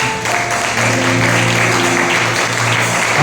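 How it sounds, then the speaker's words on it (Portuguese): Church congregation applauding together at a worship service, a steady, dense wash of clapping held at even loudness throughout, with musical tones sustained underneath. "Aplauda o Senhor, amado."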